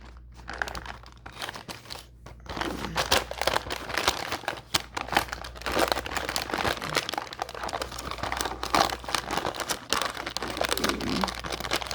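Paper crinkling and rustling as a box is folded for a DIY red Christmas train craft, a near, continuous dense crackle with occasional louder crunches and no talk.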